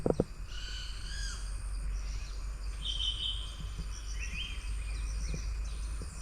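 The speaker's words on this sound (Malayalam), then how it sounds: "ഏതോ കിളികളുടെയൊക്കെ ശബ്ദങ്ങളൊക്കെ കേൾക്കുന്നുണ്ടേ" Wild forest birds call in the Thattekkad bird sanctuary: a series of clear whistled calls and short chirps, some near and some farther off, over a steady low forest hum and faint insect buzz, with no talking.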